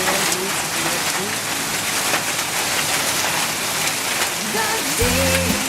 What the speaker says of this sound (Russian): Дожди, Такая стихия.